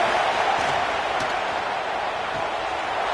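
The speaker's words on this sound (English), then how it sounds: "3rd down play in the red zone, and this crowd is at fever pitch." A stadium crowd at a college football game between Florida State and Florida roars in a steady, dense wash of cheering during a third-down play in the red zone, loud and continuous throughout.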